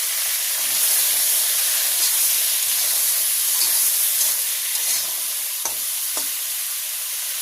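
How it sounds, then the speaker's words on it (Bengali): Flat beans seasoned with salt and turmeric fry in a pan in a village kitchen, giving a steady, close sizzling hiss with scraping stirs throughout and a couple of sharp clinks near the end. "সিমটা হালকা করে একটু ভেজে নিলাম।"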